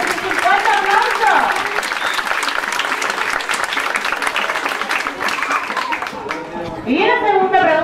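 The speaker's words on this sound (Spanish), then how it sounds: "¡Eso es un fuerte aplauso!" Loud, sustained applause from an audience at a dolphin show in Cuba, dense clapping filling the whole stretch, with a presenter's voice and whistle-like calls rising over it near the start and again at the end.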